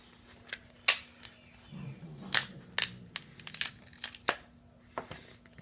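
Plastic that was cut along a line with a hacksaw is peeled away by hand, giving scattered crackling snaps, crinkles and short tearing sounds, fairly close and quiet, with no talking.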